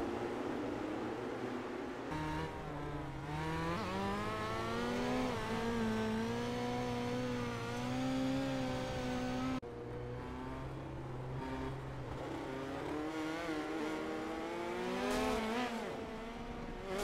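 Midget race cars in a simulated race at Lanier National Speedway rev and accelerate continuously, engine pitch climbing and dropping through gear changes, with several cars overlapping.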